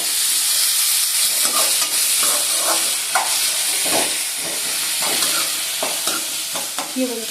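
Onions and tomatoes sautéing in a pan for a potato gravy, with steady sizzling and frying hiss broken by repeated scraping stirs of a spoon, close and fairly loud, with no talking.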